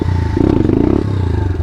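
A pit bike engine revs hard through a wheelie on a Grom-style machine, its buzzing note climbing and then dropping back across a short, loud, close burst.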